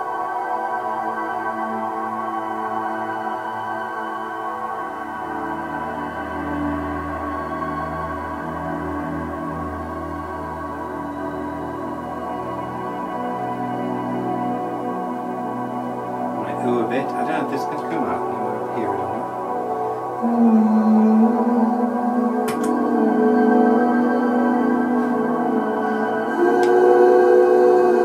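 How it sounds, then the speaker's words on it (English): Low, bowed-sounding cello-like instrument tones, played on an instrument switched to a cello sound, sustain as deep bass notes and then rise into brighter held pitches, steady and moderately loud. "Sometimes I go down low, change the sound to a more kind of cello-like sound"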